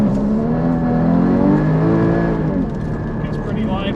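A Porsche Cayman GT4 engine pulls hard in second gear on track, a loud, close, rising drone with a slight dip and recovery partway through, a voice faintly present beneath.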